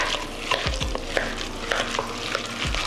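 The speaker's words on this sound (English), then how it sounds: "let's go ahead and mix everything together" Potato salad ingredients are stirred in a bowl, with repeated close scraping and wet, squelching strokes in an irregular rhythm and no voices.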